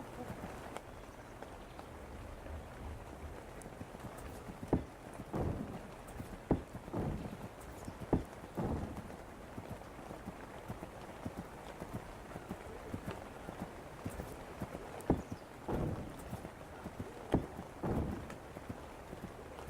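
Horse hooves in a video game clip-clop at a walking pace with a soft background hum and scattered louder hoofbeats, a muffled game-like ambience.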